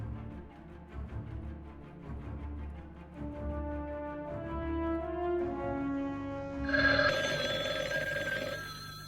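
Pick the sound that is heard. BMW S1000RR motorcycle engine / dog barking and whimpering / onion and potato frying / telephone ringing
telephone ringing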